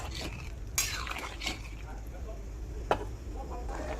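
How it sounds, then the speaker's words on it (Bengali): Lentil dal with vegetables and half a tomato stirred in a karahi, giving soft frying sizzle and a few sharp clinks and scrapes of a spoon against the metal pan, close and moderately quiet. "ডালটা ঢেলে একবার শুধু নেড়ে দেবো একবার।"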